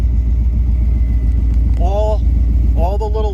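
A 1969 Corvette engine idles with a low, even rumble throughout, while someone talks over it in short bursts.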